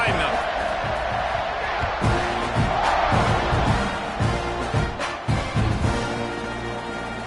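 Football stadium crowd at a Texas A&M versus Penn State game roaring and cheering after a kickoff, a dense, sustained wall of voices with scattered shouts and claps, loud and continuous throughout.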